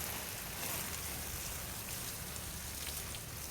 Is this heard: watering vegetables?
yes